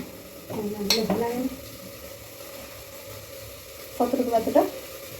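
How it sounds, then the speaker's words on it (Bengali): Rice and vegetables with salt and turmeric being stir-fried in a pan for a teheri, with soft sizzling and a few scraping stirs of a spoon, clearer near the start and again toward the end. "সব সবজিগুলোকে নুন হলুদ দিয়ে একদম হালকা করে ভেজে নিলাম তারপরে এটার মধ্যে চালটা অ্যাড করে দেবো"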